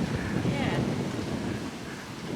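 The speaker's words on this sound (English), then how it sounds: "It's really windy." Steady wind buffeting the microphone outdoors, a constant broadband rush that eases slightly toward the end, with faint voices mixed in.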